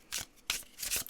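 Tarot cards being shuffled by hand in two or three quick riffling bursts, close and crisp, with no talking over them.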